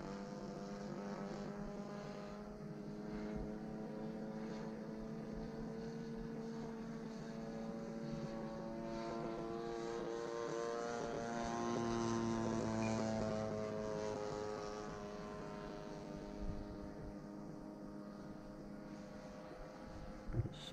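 Engine and propeller of a Seagull Models Nieuport 28 RC model plane in flight, a steady droning buzz with harmonic tones that swell and rise in pitch mid-clip as it speeds up, then ease back, continuous with no talking.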